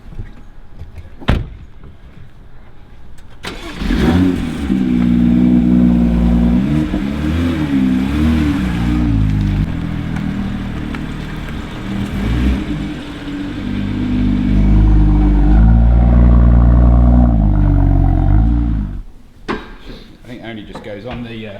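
A BMW M2 engine starts and revs repeatedly, rising and falling in pitch, loud and close, with a door clunk before and after.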